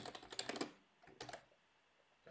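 Computer keyboard typing during Git setup in a terminal: bursts of quick, close key clicks, a dense flurry first, then a shorter run and a final lone tap, with quiet gaps between.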